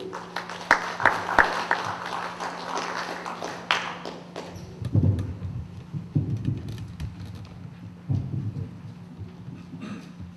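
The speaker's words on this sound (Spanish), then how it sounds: "Recibamos con un fuerte aplauso al doctor Paolo del Águila Ruiz de Somocurso." An audience at a legal lecture on enforcing arbitration awards applauds to welcome a doctor to the podium. Dense clapping fills the first few seconds, then thins into scattered claps and low room thumps with no one talking.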